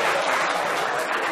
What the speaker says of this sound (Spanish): qué valiente, un aplauso. A vuestro amigo Raúl